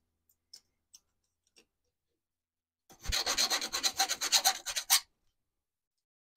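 A hand file rasps across the depth rakers of a Stihl chainsaw chain in a quick burst of about a dozen short, rhythmic strokes, close and crisp, after a few faint isolated ticks in an otherwise quiet stretch.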